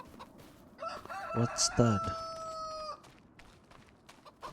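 Rooster crowing in Farming Simulator 25 on a farm, one long drawn-out cock-a-doodle-doo over steady outdoor ambience, with a brief spoken question just before it.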